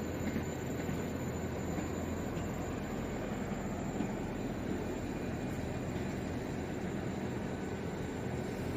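A South Western Railway passenger train rumbles steadily at Exeter St Davids station with a continuous low roar and faint high whine, sounding fairly close, with no voices over it.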